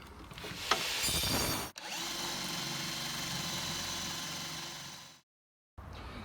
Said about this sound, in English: and then we'll drill out another hole right there